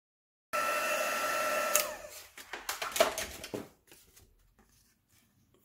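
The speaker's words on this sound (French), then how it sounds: "Vous pouvez ensuite prendre votre pistolet chauffant" A heat gun blows hot air over card stock in a steady whooshing roar for over a second, then cuts off into a series of irregular knocks and rustles as it is handled and set down.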